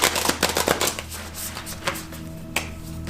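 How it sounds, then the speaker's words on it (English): Tarot cards are shuffled close by, with a quick burst of riffling snaps at the start followed by quieter scattered card flicks and taps. "Let me shuffle here."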